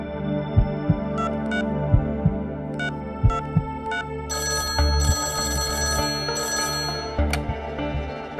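A telephone bell rings in repeated short bursts over a low steady hum, with no voices.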